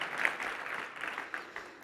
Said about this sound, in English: Will you guys please give her a huge round of applause?